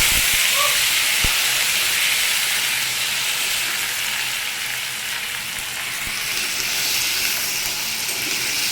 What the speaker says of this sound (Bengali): প্রথমে আমি কড়াইয়ে তেল দিয়েছি আর জিরে ফোড়ন দিয়ে আলুটা দিয়েছি